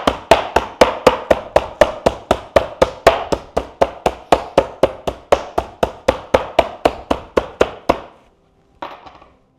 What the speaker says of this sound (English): I cover it with the press and seal, and then you just hammer away